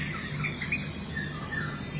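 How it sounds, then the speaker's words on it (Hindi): Birds sing in the early morning near the Sri Lankan coast, light chirps and tweets over a steady insect-like hiss, faint and continuous, with nobody talking. "अर्ली मॉर्निंग और परिंदों की ये खूबसूरत आवाज़"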